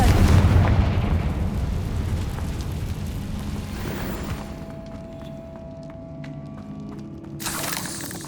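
A Confringo fire spell bursting in Hogwarts Legacy, a loud booming blast that rolls into a long crackling, rumbling tail and fades over several seconds, ending with a brief bright hiss.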